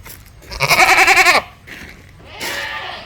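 A Malabari cross meat goat bleats loudly in one long wavering cry, then a quieter second bleat follows after a brief pause, close by.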